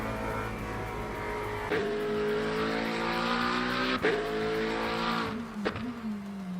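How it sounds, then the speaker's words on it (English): A race car in the sim game Le Mans Ultimate roars at high revs, then drops through gears with sharp blips near 1.7, 4 and 5.7 seconds, the engine note falling and rising after each downshift, loud and continuous. "Downshifts sound pretty good"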